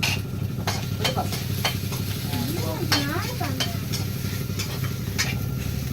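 Curry leaves and small shallots sizzling in a pan, a soft steady frying crackle with occasional stirring clicks, moderately quiet, with a voice briefly heard underneath.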